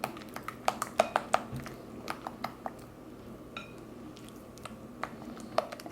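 Agave syrup being mixed into vegan strawberry cake batter in a bowl: a run of light clinks and taps of a utensil against the bowl, irregular and close, with soft squishy stirring beneath and no talking.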